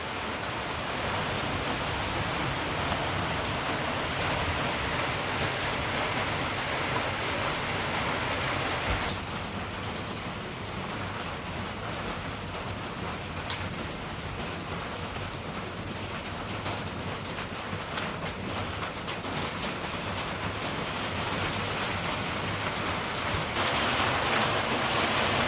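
Steady rain falling outside a house in Jamaica, a continuous broadband hiss that shifts slightly in texture midway, loud and unbroken with no voices.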